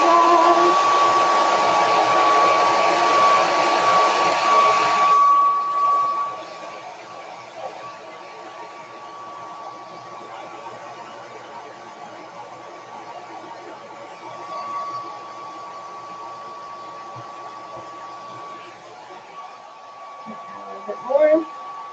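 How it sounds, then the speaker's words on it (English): A hair dryer blows on paint or paste, loud and steady for the first five seconds, then cuts off, leaving a faint steady tone and quiet room noise. "All right, so now we are going to blow dry."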